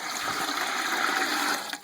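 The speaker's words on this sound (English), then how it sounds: "And then just going to pour the water down there." About four cups of water poured down a drain while making distilled water, a brief rushing gush that tapers off near the end; no talking.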